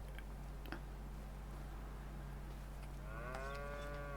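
Cattle in Farming Simulator 25, part of a dairy and cattle herd on pasture, give a single drawn-out moo near the end, heard over a steady low hum with a few faint ticks before it.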